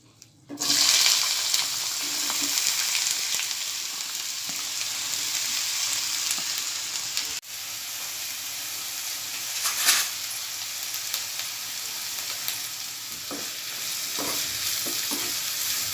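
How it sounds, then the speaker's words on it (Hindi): Onions hit hot oil in a frying pan with an abrupt loud sizzle that settles into a steady crackling fry, briefly interrupted midway, with occasional stirring clatter near the end, close and without talk. "तेल गर्म हो चुका है। अब मैं इसमें प्याज डालूँगी।"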